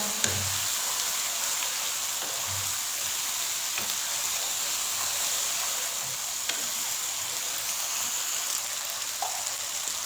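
Chicken biryani masala fries in a pan with a continuous close sizzle and crackle, with faint occasional stirring taps underneath.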